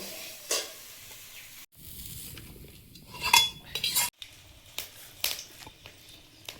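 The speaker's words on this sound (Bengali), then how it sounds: "সবজিটা ভেজে নিয়েছি, এবারে ঢেলে নেব।" Fried vegetables are tipped and stirred in a hot pan, giving metallic scrapes and clinks of a spoon against the pan over a soft sizzle, with uneven bursts and brief pauses.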